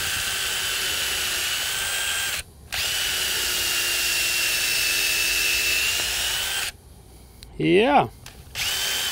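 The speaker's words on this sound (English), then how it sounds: "we're gonna just put in a few screws here to tighten this all up." A power drill whirs in long steady bursts with brief pauses, driving screws into a wooden pergola, then a short rising-and-falling whine near the end, with a quick spoken word.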